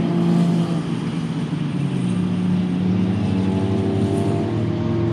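Race cars roar past trackside at turn one of a Lemons endurance race at CMP, a loud, steady engine drone that swells and fades as cars pass close by.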